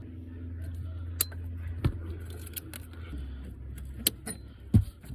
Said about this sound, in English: So I gotta clip this thing now. These zip ties.